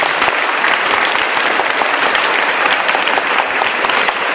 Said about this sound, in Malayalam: വലിയൊരു കൈയടി കൊടുത്തേ.